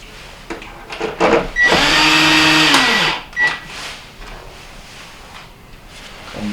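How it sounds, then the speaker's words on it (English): A cordless drill with its clutch turned down drives screws into a Whirlpool dishwasher during a fuse-kit repair, giving a loud sustained whir that winds down, with short bursts before and after and quiet handling noise between. "I'm actually going to lower the clutch on my drill down so that way it's less chance of over tightening"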